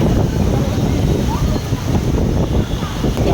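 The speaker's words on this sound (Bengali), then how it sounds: "এখন ঝড়টা হট করে অনেকটা মানে জোরে হয়ে গেছে" Strong storm wind roars through an emptied park, buffeting the microphone in a loud, continuous rumble across the short stretch.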